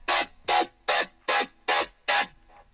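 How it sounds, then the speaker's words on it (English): Dubstep synth patch built in Serum: six loud, harsh, gritty bursts in a steady rhythm, each short and noisy with a growling tonal edge, separated by brief gaps, with no drums or talk. "There's your dubstep sound."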